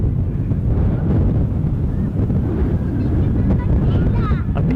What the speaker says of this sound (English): Stiff breeze, definitely.